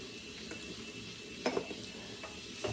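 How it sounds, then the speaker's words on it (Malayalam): Onion sizzles and sautés in hot oil in a home kitchen pan, a steady low frying hiss with a few louder stirring scrapes and clinks, near and without talk. "എണ്ണയൊക്കെ ഒന്ന് ചൂടായി ഞാനപ്പോഴത്തേക്കും പിന്നെ സവോള ഇട്ട് കൊടുത്ത്"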